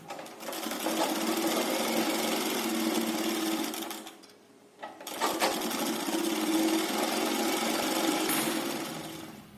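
A sewing machine stitches piping on a blouse sleeve with a fast, steady mechanical whirr, pausing briefly midway before running on again at close range.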